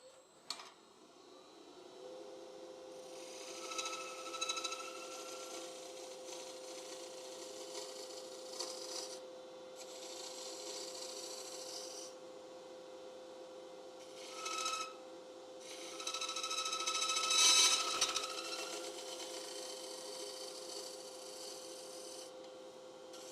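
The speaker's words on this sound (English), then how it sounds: "Switch to my bowl gouge." Bowl gouge cutting a mulberry hollowform spinning on a wood lathe, a steady scraping rasp over the constant motor hum, with brief rougher bursts as the tool bites in and lifts off.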